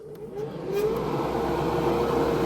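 Fans of a small spray booth used for airbrushing scale models spin up, a whirring hum that rises over the first second and then holds a steady, fairly loud drone with no talking.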